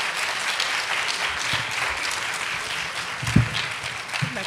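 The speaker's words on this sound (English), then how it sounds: "Give them another round of applause." Audience members at a health issue forum applaud the panelists, a diffuse wash of many hands clapping together that stays fairly even throughout, with a slightly louder thump near the end.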